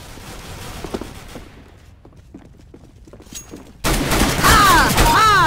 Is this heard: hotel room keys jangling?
no